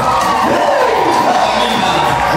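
A wedding crowd bursts into loud, sustained cheering and whooping for the newly married couple, a dense wall of voices filling the whole moment.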